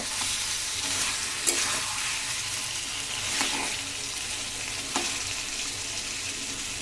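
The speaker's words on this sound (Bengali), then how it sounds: "কষানো মাংস থেকে অলরেডি তেল ছেড়ে দিয়েছে, আরও 3 থেকে 4 মিনিট ভালোভাবে কষিয়ে দেব।" Chicken curry meat sautés in spices and released oil in a home kitchen, with a dense continuous sizzle up close and occasional scrapes as it is stirred, no talking.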